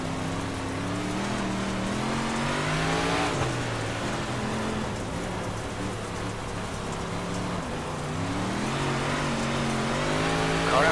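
Big Block Modified race cars lapping Lanier in the iRacing sim, a continuous loud engine drone whose pitch rises and falls with throttle, with no talking.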